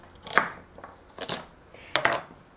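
A knife chops carrots on a board for sea vegetable sushi, making a few sharp, close cuts spaced irregularly with quiet pauses between them.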